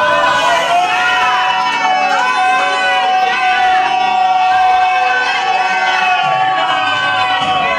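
Wedding guests in a crowd shout and cheer together, a loud sustained mass of voices with whoops and overlapping calls that carries through the whole stretch.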